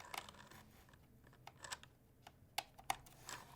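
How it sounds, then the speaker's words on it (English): Keys clack in quick irregular bursts on an HHKB Professional Hybrid keyboard, light and fairly quiet, with brief pauses between strokes and no voices. "Let's do a different typing test"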